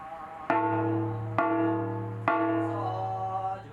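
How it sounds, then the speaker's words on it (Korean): A monk's gong (jing) at a Korean shamanic ritual is struck three times at steady intervals, each loud metallic hit ringing out in a long humming sustain that decays slowly until the next blow. "스님의 징소리와 연불이 먼저 고요한 길을 열면 오늘의 정성이 시작됩니다"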